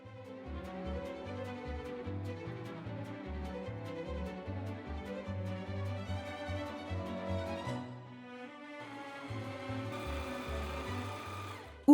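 A sewing machine stitches a seam on a bohemian-style dress, a rapid mechanical chatter running in steady bursts with a short pause partway, close and fairly quiet.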